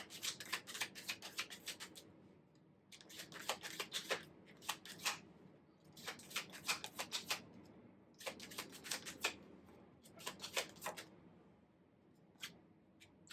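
Tarot cards being shuffled by hand in a quiet room, a run of soft riffling bursts and dense papery flicks repeating in several bouts with brief pauses between, close and moderately faint, no talking.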